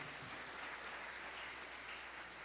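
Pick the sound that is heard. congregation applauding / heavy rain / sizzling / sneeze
congregation applauding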